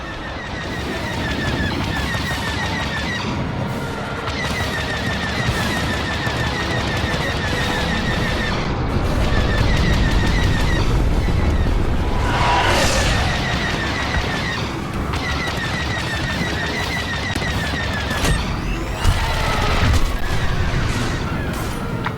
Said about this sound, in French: Agent Nico, attaquez ces vaisseaux rebelles.